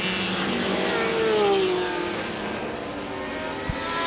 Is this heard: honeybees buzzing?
no